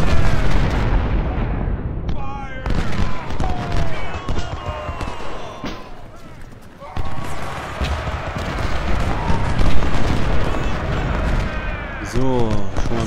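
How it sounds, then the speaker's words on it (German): Cannon and artillery fire from the Ultimate General: Civil War video game, with repeated heavy booms and bursts across a busy battle soundscape, and someone talking over parts of it. "Warum antwortet meine Kanone nicht?"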